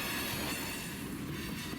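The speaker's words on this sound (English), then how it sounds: "Springs definitely confirm that this train is loaded." Loaded CSX freight train with hopper cars rolling past, a dense steady roar of wheels and rails at close range with faint squeal, loud and continuous throughout.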